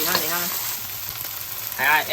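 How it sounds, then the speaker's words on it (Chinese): Oyster omelette sizzling steadily in an oiled pan at a Hong Kong-style food stall, a continuous close crackle with brief flurries of louder spitting at the start and end. "不停翻它啦，煎到2边都金黄色脆脆的"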